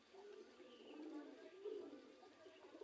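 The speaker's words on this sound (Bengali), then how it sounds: "পায়রা রুটি খাচ্ছে দেখুন" Pigeons softly cooing while pecking at torn pieces of bread, low murmuring coos close by and faint, with a little background noise.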